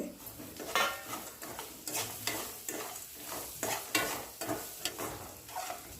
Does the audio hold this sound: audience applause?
no